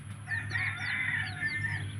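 Hens clucking and rooster crowing calls from several birds on a small rural duck and chicken farm, with a steady low hum underneath throughout.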